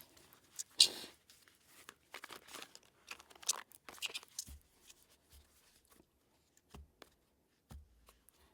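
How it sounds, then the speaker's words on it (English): Soft, papery riffling and flicking of a velvet-backed card deck being shuffled in short bursts, then a few sparse taps and thumps amid quiet. "this deck is hard to shuffle because of the velvet backing that it has"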